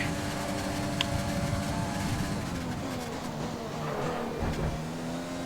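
A Formula 1 car engine in the F1 2020 racing game roars steadily at high revs with DRS open while overtaking, its pitch sweeping and shifting across the passage, loud and continuous with no talk.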